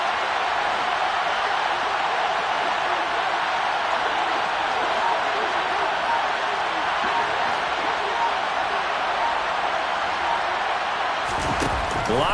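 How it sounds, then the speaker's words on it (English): A football stadium crowd roars before a third-and-goal play in an NFL game, a loud sustained wall of cheering that holds steady throughout, with a commentator's voice running over it. "That just means this crowd's going to get even louder"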